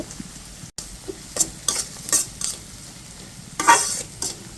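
Onions fry in oil in a pan for a koi fish curry, under a constant soft sizzle, with several louder bursts of stirring and scraping from a spatula up close.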